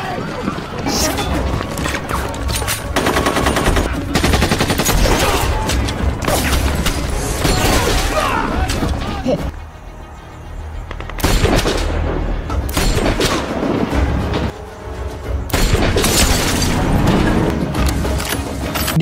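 A loud, dense film battle scene with a sniper's team: continuous gunfire volleys, booming explosions and crashing debris fill nearly every moment, easing briefly before erupting again, with a voice talking over the din.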